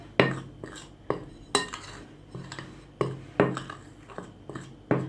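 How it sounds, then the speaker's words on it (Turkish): A utensil mixes flour and starch in a bowl for börek dough, striking the bowl with sharp, evenly spaced clinks and scrapes in a steady rhythm, close and fairly quiet with no talk. "bir çay bardağı nişasta, 2 su bardağı unumuzu bu şekilde harmanlıyorum"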